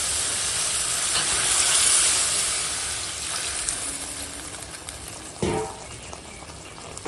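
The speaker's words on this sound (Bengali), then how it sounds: "তো এইবার দিয়ে দেবো জল" Water poured into a hot potato curry, a loud hissing sizzle that swells and then settles into a quieter bubbling steam, with a brief clatter near the end and no voices.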